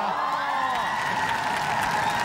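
A stadium crowd at a football penalty shootout applauds and cheers in a steady, dense wash of clapping and voices, continuous throughout.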